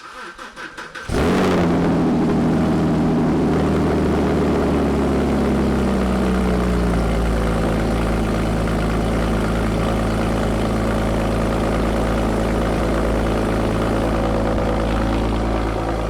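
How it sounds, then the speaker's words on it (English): A Porsche engine roars to life in a cold start after a short crank, then settles into a loud, steady idle close by, running alone without talk. "First cold start for you guys."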